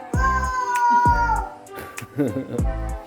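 A few cat meows, clear and close, each rising then falling, spaced over a few seconds.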